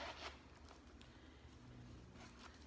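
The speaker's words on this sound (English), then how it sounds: "So we unzip both of them." A leather wallet's zipper closure is drawn open, a quiet raspy zip near the start followed by faint scraping and rubbing of the leather in a hushed room.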